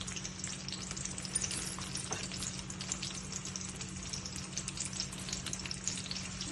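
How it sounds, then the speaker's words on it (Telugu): Onions frying in a pan, giving a steady, dense sizzle that runs unbroken at an even level with light stirring crackle and a faint low hum underneath. "ఎర్రగడ్డ బాగా వేగాలండి."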